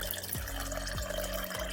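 Water, about four cups, is poured into a blender for a mango and ginger smoothie, making a steady, close liquid rush with a few gurgling swells.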